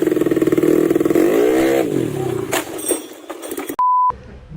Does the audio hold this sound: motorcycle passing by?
yes